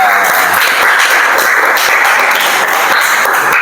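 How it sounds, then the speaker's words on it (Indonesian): Classroom audience applauding a student group's presentation: loud, dense clapping runs steadily through the whole stretch with no pause, and a few sharper claps stand out from the crowd. "Kita beri aplaus yang meriah."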